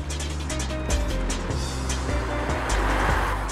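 The 2.3 V5 engine hums steadily at a low, even drone as the car drives along a road, a smooth continuous note heard close with no talk.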